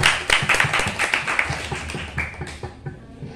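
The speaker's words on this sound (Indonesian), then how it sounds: "Mungkin bisa kita beri tepuk tangan." A small gathering at a branch meeting applauds the newly elected chairperson with moderate, brisk clapping that tapers off and goes quiet toward the end.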